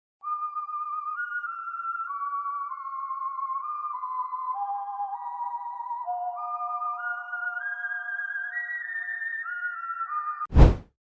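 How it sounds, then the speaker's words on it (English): A clear, melodic whistle from the music game Incredibox carries a tune of stepped notes for about ten seconds, then ends with a sharp, loud thump. "Whistling"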